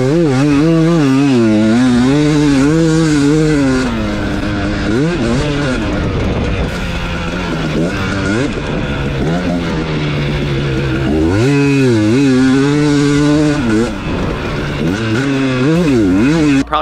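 Two-stroke dirt bike engine revving hard and continuously, loud and close, with rising and falling pitch sweeps and a rough, crackly edge throughout, while a voice talks over it at times.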